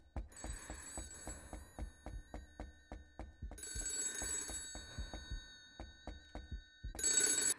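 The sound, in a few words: telephone ringing in the Ao Oni 3D video game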